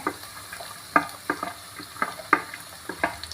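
Chopped ginger and garlic sauté in a pan for mango pickle, with a soft frying sizzle under irregular scraping strokes of a stirring spoon, fairly close and with no talk.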